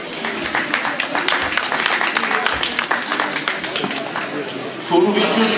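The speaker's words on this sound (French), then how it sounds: "On peut les applaudir pour les encourager." An audience claps for inductees at a Bouchoteurs de Pénestin brotherhood induction ceremony, dense, close applause running throughout, with murmured voices mixed in and a brief swell near the end.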